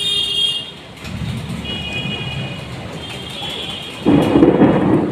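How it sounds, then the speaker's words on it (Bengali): Thunder rolls through an evening storm sky with lightning, a deep, sustained rumble that swells and lingers, then surges louder near the end, with no talking. "মেঘেও ডাকছে বিদ্যুৎ চমকাচ্ছে"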